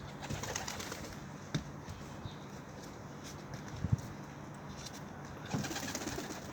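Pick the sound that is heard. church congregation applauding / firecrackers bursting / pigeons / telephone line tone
pigeons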